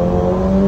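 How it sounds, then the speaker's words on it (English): A VW GTI Edition 30 with a tuned exhaust revs, a close, loud engine drone with a steady low rumble and harmonic whine, heard alone in a brief burst. "It does sound nice exhaust. It just rumbles along."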